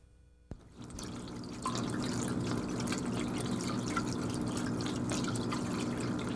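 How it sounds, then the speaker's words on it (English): A small indoor water fountain starts running, and a soft click is followed by a steady trickle and splash that swells into continuous flowing water. It stays close and moderately quiet, with no talking. "I have a fountain that runs water"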